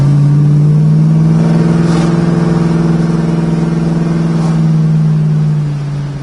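A 1969 Chevrolet Camaro convertible cruises down the road, its steady mid-pitched engine drone holding level throughout and easing off slightly at the end, loud and close with no talking.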